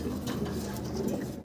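Pigeons cooing at a pigeon sellers' stall, soft low rolling coos close by, brief and steady before cutting off.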